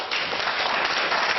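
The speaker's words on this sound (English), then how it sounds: "How can you applaud that?" An audience applauding at a public debate, a brief, dense wash of clapping heard alone.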